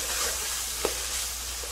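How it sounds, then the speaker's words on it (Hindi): Onions with garlic-ginger paste fry in a pan as a steady, soft broadband sizzle with one brief stir-like tick, no voices. "भून लेते हैं।"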